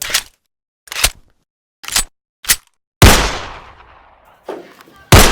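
Several sharp, loud gunshots from a handgun ring out one at a time in a dramatized scene, the last long blast leaving a decaying echo before one more shot snaps off at the end.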